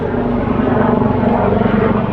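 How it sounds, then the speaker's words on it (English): Helicopter passing overhead above Brompton Cemetery in London, a steady loud rotor and engine drone that fills the whole moment with no one speaking. "there's a helicopter up there."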